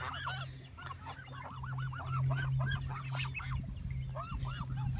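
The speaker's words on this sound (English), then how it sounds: "Naughty geese." Several geese honk in rapid, repeated calls close by, with a steady low hum running underneath.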